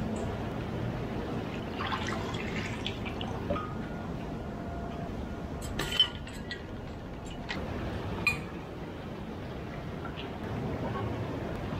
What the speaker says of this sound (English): I rinse in some fresh water, and it's finished